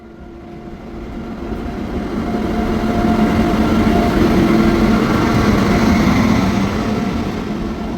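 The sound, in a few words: train engine moving on rails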